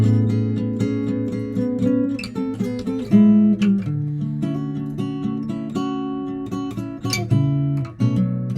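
Centre guitar layer recorded for a song's chorus, playing sustained chords and melodic notes in a steady, full strum, loud and close, with no voices.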